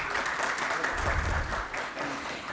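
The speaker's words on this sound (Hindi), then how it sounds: "आपकी भरपूर तालियों में उनका इस्तकबाल है" A hall audience at a fire safety awards convention applauds to welcome a chief guest, steady dense clapping throughout the short span.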